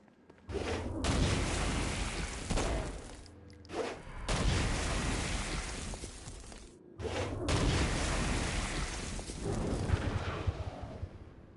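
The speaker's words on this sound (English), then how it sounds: "Stone Blast is especially useful on flying demons like this one" Stone Blast power from Saints Row: Gat Out of Hell, fired at flying demons: a run of loud, dense blasts and explosive booms with brief gaps between bursts, game combat sound with no talk.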